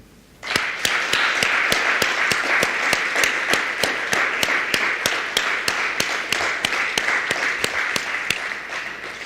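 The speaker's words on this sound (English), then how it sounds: "please give them a round of applause to say thank you" Sustained applause from a school prize-giving audience thanking the educators, steady and dense throughout with a few sharper claps standing out rhythmically.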